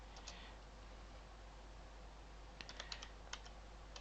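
A computer keyboard clicks in a short burst of typing, faint against a steady hiss, with a pause before a second quick run of keystrokes.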